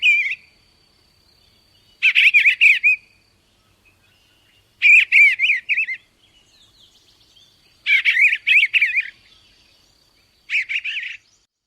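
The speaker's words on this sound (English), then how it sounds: "The sound you just heard was that of the eastern bluebird." Eastern bluebird song in four short bursts of warbling, slurred notes, separated by silent pauses, clear and fairly close.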